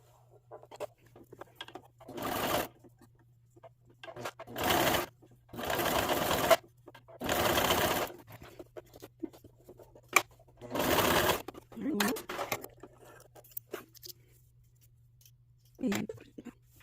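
A sewing machine hems the cuffs of a patchwork romper in several short close bursts of rapid stitching, separated by quiet pauses with small handling noises and a faint steady background hum.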